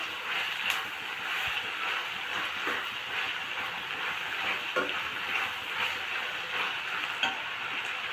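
Shavige (vermicelli) fries in oil in a pan for upma, a steady close sizzle with occasional soft scraping and clinks from stirring, continuous and fairly quiet with no talking.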